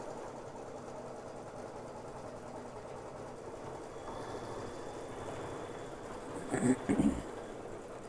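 An embroidery sewing machine stitching at home, a steady low mechanical whir heard from a short distance, with a brief louder clatter near the end and a single word spoken.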